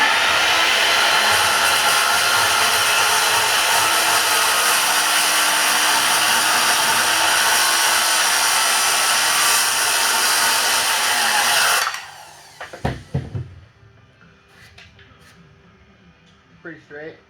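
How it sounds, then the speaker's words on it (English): A power saw plunge cuts an inlet for a keelson in a 23-foot Spira Winchester boat, whining loud and steady for about twelve seconds before cutting off abruptly, followed by a few clunks and quieter shop noise. "so I'm just going to plunge cut this"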